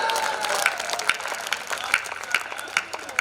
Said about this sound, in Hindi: बात ठीक हो तो ताली वाली बजाते रहो।